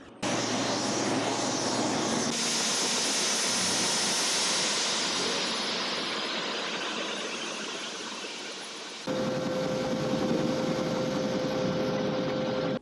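A helicopter engine and rotor roar loudly and steadily from inside the cabin during a sightseeing flight over Hilo, Hawaii, with the drone shifting in pitch as it climbs and a sustained tonal whine joining later, no talking.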